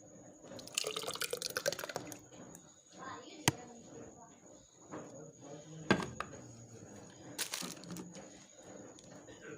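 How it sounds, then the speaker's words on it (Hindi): Half a kilo of thick yogurt is spooned and poured into a jug, giving close, wet plops and drips, with a few sharp clinks against the container while someone talks. "इसको मैं जग में डाल दूंगी।"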